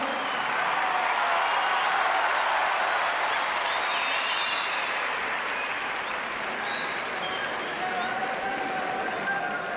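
Sustained crowd applause fills an arena at a Uyghur wrestling match, steady and dense throughout with faint cheering and scattered voices mixed in.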